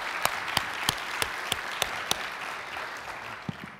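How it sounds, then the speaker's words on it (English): Audience at a public transportation awards session applauding Gold Award winners, a steady wash of clapping with a few sharp, close claps standing out, no talking. "Let's give one more round of applause to all of our Gold Award winners"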